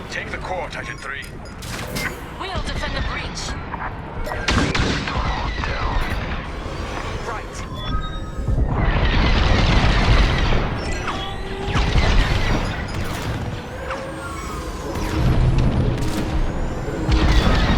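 Turret fire and explosions during a Star Wars Squadrons space battle: scattered sharp blasts and bangs, then a long rumbling roar of explosions that swells and recedes, with bursts of shooting returning near the end.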